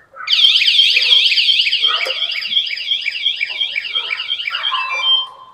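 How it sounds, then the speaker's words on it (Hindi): Motorcycle anti-theft security alarm blaring right after the bike is moved, a loud close warbling electronic siren that repeats its rising and falling pattern for about five seconds before shifting tone and cutting off. "डायरेक्टली अलार्म बजाना स्टार्ट कर दिया है इसने जैसे ही हम बाइक हिलाते हैं"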